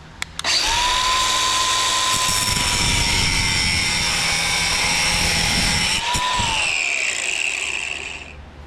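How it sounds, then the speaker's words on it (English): An angle grinder cuts through a rusted clutch cable on a 1956 oval-window VW Beetle, spinning up to a loud sustained whine with gritty cutting noise, then winding down as it finishes. "So I'm just going to literally give it a snip with the grinder"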